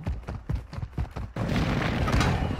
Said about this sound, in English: Oh shoot, that's an airstrike.